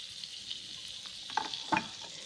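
Eggs poured into a pan of melted butter give a soft, steady sizzle with a few brief crackling bursts near the end. The cooking is fairly faint and close, and no one speaks.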